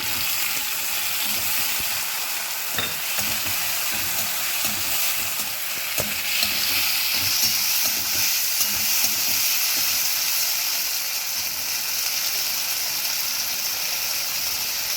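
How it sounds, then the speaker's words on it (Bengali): Chopped tomato added to ginger and green chili frying in a pan for a spinach and potato dish, giving a steady close sizzle with occasional stirring clinks, no talking. "আদা কাঁচা লঙ্কা একটু ভাজা ভাজা হয়ে গেছে, এর মধ্যে আমি টমেটো দিয়ে দেবো, টমেটো কুচি"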